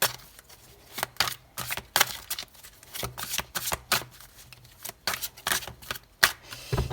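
Very large oracle cards being shuffled by hand, a quick run of crisp riffling and slapping bursts close by, with irregular pauses between handfuls and no talking.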